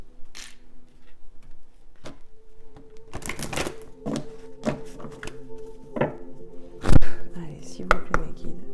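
Tarot cards are shuffled for a reading, with quiet riffling and sharp flicking snaps in uneven bursts, close up, under a soft voice.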